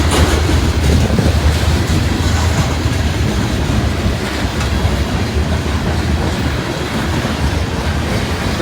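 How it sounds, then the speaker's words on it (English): A loaded grain freight train rolls past close by, a loud, steady rumble of wheels and cars that holds for the whole stretch with no one speaking. "We got us a loaded grain train here."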